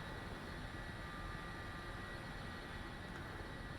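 Aircraft engines running in a flight simulator, a steady broadband jet-like roar with a faint constant whine, even and unbroken with no speech.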